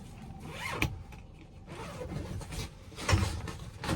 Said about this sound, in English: And you can also unzip this.